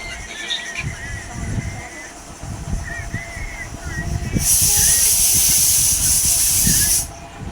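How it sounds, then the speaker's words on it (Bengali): Pressure cooker whistle on a home stove, a loud steady steam hiss that bursts in partway through and runs for a few seconds before cutting off, with a voice and kitchen sounds before it. "দেখো, আবার সিটি পড়ছে, রান্না হচ্ছে।"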